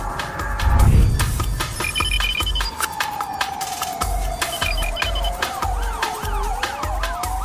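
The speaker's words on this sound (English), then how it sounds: "If you've been hearing police sirens in your neighborhood" A loud police siren wails and sweeps in pitch, close by, over steady rumbling traffic noise with a brief low thump near the start.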